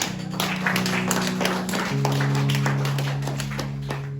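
A church congregation at a Sunday worship service claps in praise of the Lord, a steady wash of many hands over sustained musical tones that run throughout.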